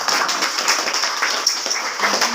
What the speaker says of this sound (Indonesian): Tepuk tangan dulu buat kita.